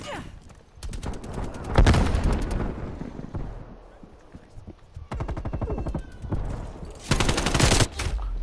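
An AK-47 fires in Call of Duty Cold War in three bursts of rapid automatic shots. The bursts are loud and crackling, with quieter game noise filling the gaps between them.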